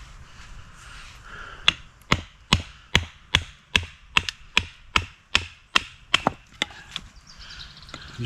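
A knife being battoned through freshly chopped wet wood, struck about fifteen times in a steady, sharp rhythm, each hit a crisp close crack with quiet pauses between.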